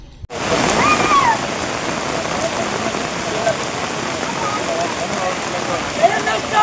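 Heavy rain pours down in a dense, continuous roar over a farmers' road-blockade protest in Ratkal village, Kalaburagi, with faint voices barely audible beneath the downpour.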